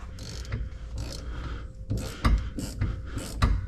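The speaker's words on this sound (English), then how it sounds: "these bolts right here on the axle to the diff are E12s. So just gonna wanna loosen those guys up." A hand ratchet loosens E12 bolts between the axle and differential on a BMW E36, producing short, close clicking bursts over a low background rumble.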